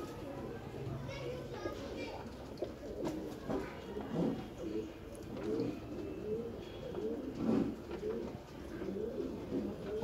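Pigeons coo in low, rolling repeated calls throughout, with someone talking over them at close range.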